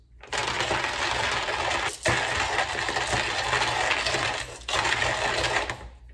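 Saint Helena coffee beans ground by hand in a manual grinder, a steady loud gritty crunching and rasping that runs almost continuously, with two brief pauses between bursts of turning.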